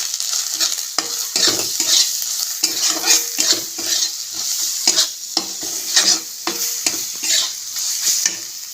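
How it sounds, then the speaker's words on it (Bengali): Grated coconut fries in a pan on a village kitchen stove, crackling and sputtering loudly and close while it is stirred in repeated bursts, with a steady sizzle beneath. "নারকেলটাকে আস্তে আস্তে করে ভেজে নেব। নারকেলটা ছটছট করছে।"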